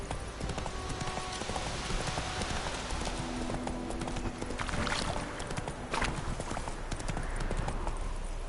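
The horse Roach from The Witcher 3 galloping, with rapid, continuous hoofbeats, a brief whinny and game ambience underneath.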